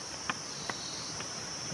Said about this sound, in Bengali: কিচ্ছু, শুধু ঝিঝি পোকার ডাক আর পাইনের জঙ্গল।